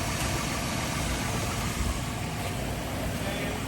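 A 2012 Ford Mustang engine idles steadily with a constant low rumble after a water pump replacement, close and continuous with no change in pace.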